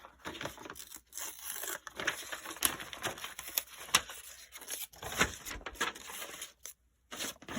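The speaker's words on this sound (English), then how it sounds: "let's tear out some numbers from our paper" Paper being torn in several quick, ripping bursts with crinkling between them, close by, with brief pauses.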